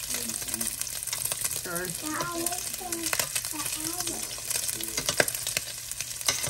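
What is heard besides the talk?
bacon frying in a pan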